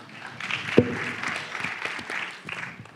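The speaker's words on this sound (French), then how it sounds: "On peut applaudir la dernière question" Audience at a round-table debate of metropolitan election candidates applauding, a modest scattered clapping from a small crowd with one sharp nearby knock, fairly faint and brief.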